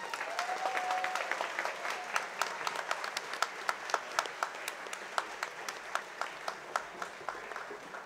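Audience at a school awards presentation applauds steadily, clapping fairly dense at first then thinning to sparser, distinct claps toward the end, heard from a moderate distance.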